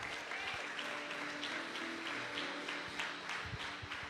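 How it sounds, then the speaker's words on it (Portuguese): A church congregation at a Sunday evening service claps together, a dense, moderately loud wash of applause with faint voices underneath throughout the short stretch. "Aplauda mais forte ao Senhor"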